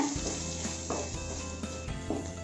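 Masala spices sautéing in hot oil for a prawn Maggi dish, a steady close sizzle broken by a few sharp spatula scrapes and stirs against the pan, with no voices.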